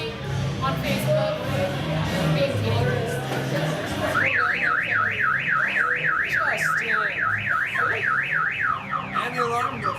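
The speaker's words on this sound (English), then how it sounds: "And the alarm goes off." A car alarm starts partway through and runs for about five seconds in a fast, regular warble that rises and falls, sounding loud and clear over a busy, noisy background.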